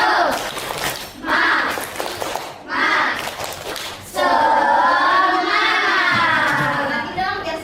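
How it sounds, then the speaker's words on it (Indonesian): Students in an Indonesian classroom perform the rhythmic 'tepuk semangat' clapping chant, bursts of group clapping and children's chanting alternating with brief pauses, loud and close. "Yuk kita tepuk semangat."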